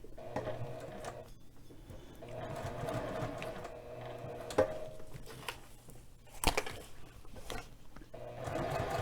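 Domestic sewing machine stitching a bag seam, its steady motor whir running in several bursts with brief pauses and small clicks between runs, close and moderately loud.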